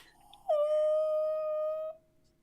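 A puppy lets out a single drawn-out, high whine that holds steady for over a second before cutting off, close and fairly loud against a quiet background.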